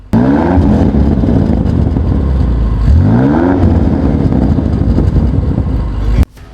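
A 2024 Range Rover SV with a 4.4-litre twin-turbo V8 is revved twice in quick, rising blips over a loud, close rumbling idle, ending with an abrupt cutoff.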